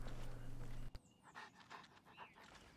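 Dog panting in a video game, quick soft rhythmic breaths, close and fairly faint, following a brief low hum that cuts off.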